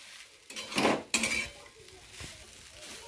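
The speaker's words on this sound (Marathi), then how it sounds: "आता हे चांगलं हलवून घ्यायचं, म्हणजे तूप सगळं मिक्स होतंय।" A utensil scrapes and clinks against a pan while coconut is stirred in ghee, a few louder knocks amid soft sizzling, close and without talk.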